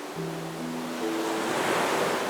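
Ocean waves in the video game Honkai: Star Rail, a broad steady wash of surf that swells slightly louder, with faint sustained musical tones beneath it.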